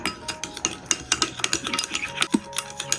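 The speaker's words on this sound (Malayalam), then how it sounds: "പഞ്ചസാര എല്ലാം ഒന്ന് അരിഞ്ഞ് വരുന്നത് വരെ ഒന്ന് ഇളക്കി കൊടുക്കാം" A spoon scrapes and clinks irregularly against a bowl while yogurt and sugar are stirred together until the sugar dissolves, close and moderately loud with no talking.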